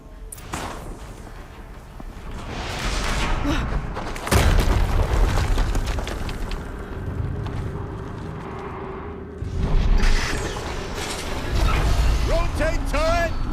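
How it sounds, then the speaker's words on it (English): Alterlife video game explosions hit as two heavy booms a few seconds apart, set against continuous rumbling mechanical game noise with bright chiming effects near the end. "another explosion."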